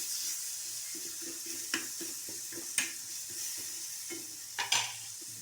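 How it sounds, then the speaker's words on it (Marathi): Tomatoes sautéing in oil for a green bean and potato vegetable dish, giving a steady low sizzle broken by scraping stir strokes and a few sharper clinks of a spoon against the pan, close and alone. "तेलावर चांगलं परतून घ्यायचं असं आणि मग याच्यामध्ये टमाटो घालायचं चांगलं परतून घ्यायचं"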